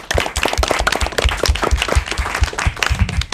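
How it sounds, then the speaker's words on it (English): Applause from the audience at an elementary school academic quiz competition: close, sharp individual claps in an uneven, lively rhythm, loud and continuous for the whole stretch. "Big round of applause for yourselves."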